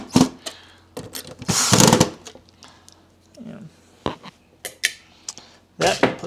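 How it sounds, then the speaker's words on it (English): Metal screws and small tools clink and rattle while a Royal 7300 vacuum cleaner is reassembled, a series of short scattered clicks and scrapes at close range with quiet gaps between them. "Now we're going to put some of these screws back."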